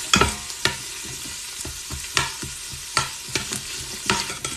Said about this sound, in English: I wait for my vegetables in my pot to start sauteing